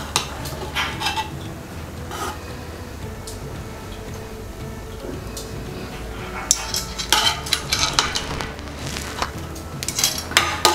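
Prawn biryani rice being turned over in a pot, with a ladle clinking and scraping against the metal in bursts over a low steady background hum.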